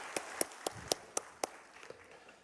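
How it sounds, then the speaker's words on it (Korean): Scattered, sparse hand claps from a church congregation during a Sunday worship service, about seven separate sharp claps spaced unevenly and fading toward the end, fairly quiet in a roomy space. "하나님께 감사 영광의 박수 드립시다"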